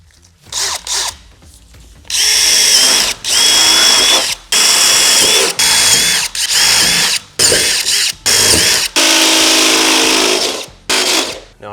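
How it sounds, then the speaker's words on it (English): A power drill bores into the sheet metal of a Ford Transit cargo van, running in loud, steady bursts of several seconds each with short pauses between them, close up and with no talk over it. "This is just going to prevent you from drilling too deeply into the van"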